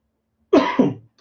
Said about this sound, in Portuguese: uma pigarra na garganta